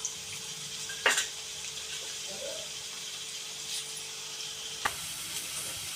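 Ginger-garlic paste sizzles in hot oil while tempering a country chicken curry, making a steady, quiet hiss broken by a couple of brief clinks.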